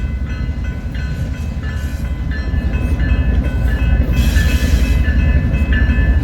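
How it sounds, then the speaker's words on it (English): A loaded southbound coal train with an ES44 locomotive rolls past outdoors in Nebraska or Iowa, a loud steady rumble with rhythmic wheel clatter and squeal that swells toward the end. "here's our southbound coming. It is a loaded coal drag."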